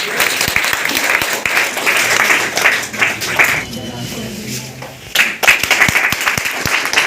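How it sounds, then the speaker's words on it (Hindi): An audience at a school quiz prize ceremony applauds loudly and continuously, with dense, close clapping that briefly softens midway before rising again. Faint voices come through under the applause. "जोरदार तालियां।"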